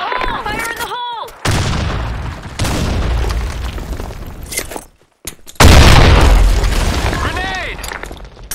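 Grenade blasts and gunfire in a shooter game, loud booming bursts broken by brief gaps, with a voice over parts of the clip.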